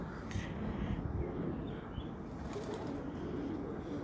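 Pigeons on a rooftop beat their wings in brief flurries over a constant, fairly loud outdoor wash of wind and background noise.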